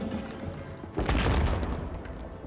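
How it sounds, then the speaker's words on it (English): A heavy marble coffin slab in Pathfinder: Kingmaker shifts with a low rumble, then crashes to the floor in a loud, booming impact whose rough roar fills the rest of the moment, as if echoing through a dark hall. "you slide the marble slab aside. The slab hits the ground with a great booming noise, echoing in the dark hall"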